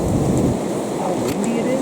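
Strong wind blowing outdoors during a deer hunt, a loud, continuous rush and buffeting that batters the microphone throughout.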